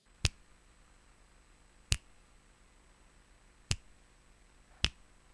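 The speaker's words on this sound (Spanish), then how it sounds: "Y aquí encontramos los distintos chasquidos que hemos podido grabar." Recorded finger snaps played back one at a time: four sharp, isolated snaps spaced one to two seconds apart over a quiet background.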